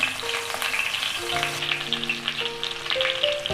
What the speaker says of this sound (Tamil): ஸ்டஃப் பண்ண எல்லா கத்திரிக்காயும் நல்லா ஃப்ரை பண்ணிக்கலாம்.